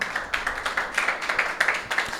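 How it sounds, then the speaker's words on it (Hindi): Church congregation clapping during a sermon, a steady rhythmic run of handclaps at about four per second, close and even, with no voices over it. "यीशु मसीह के लिए तालियां बजाएं"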